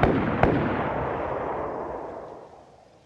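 A couple of sharp distant gunshots in the video game DayZ ring out, followed by a long rolling echo that slowly fades away.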